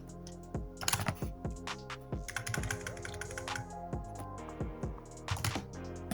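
A computer keyboard clicks nearby as a file name is typed, in short irregular runs of crisp keystrokes separated by brief pauses, with no voices.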